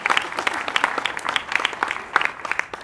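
An audience at a university discussion event claps warmly to welcome a guest composer, a dense, steady round of applause from a room full of hands.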